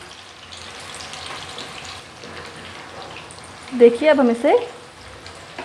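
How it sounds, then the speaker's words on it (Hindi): King fish (surmai) fries in oil in a pan over medium heat, a soft steady sizzle that swells briefly louder midway, with someone talking over it. "हम इसे मीडियम हीट पे फ्राई करेंगे।"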